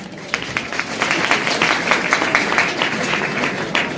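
An audience at an RCM business seminar claps steadily and densely for a few seconds, a sustained, fairly loud round of applause with no voices over it.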